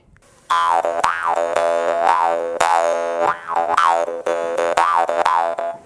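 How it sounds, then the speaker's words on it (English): A twangy Dan Moi jaw harp plays close and loud, its buzzing tone bending up and down in a bouncy, rhythmic wah pattern. "Right now with me, I have 2 functional jaw harps."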